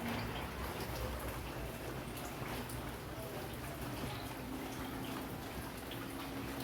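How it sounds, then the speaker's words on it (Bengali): Continuous heavy rain that has been falling since before dawn, a steady dense patter and hiss that holds evenly throughout, with no voices heard. "এত বৃষ্টি হচ্ছে, কন্টিনিউ বৃষ্টি হয়ে চলেছে।"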